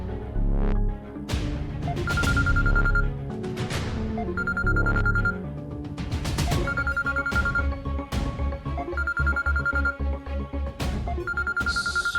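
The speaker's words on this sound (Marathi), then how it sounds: "सुजित सरांचा फोन" A telephone rings in repeated bursts of a bright electronic tone, evenly spaced about every two seconds, with a low throbbing musical underscore beneath it and no speech.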